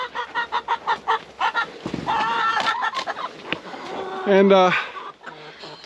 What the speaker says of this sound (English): Alright, checking on the chickens. Chickens are doing good.